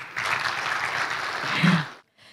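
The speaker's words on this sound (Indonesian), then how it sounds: "Boleh minta tepuk tangannya Bapak sekalian?" An indoor audience at a formal army-hosted literacy event applauds for about two seconds, a steady, moderately loud patter of many hands that stops abruptly.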